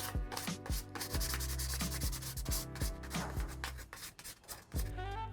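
A steady, loud rasping of sandpaper rubbing back and forth over satin-finish hardline PC cooling tubing, with rhythmic strokes repeating closely about every half second.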